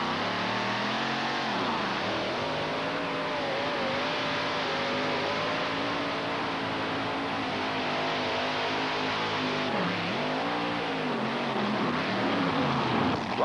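A pulling tractor roars at full power in a 1988 NTPA pull at Syracuse, its loud, sustained engine wail rising and dipping in pitch over several seconds as it strains down the track.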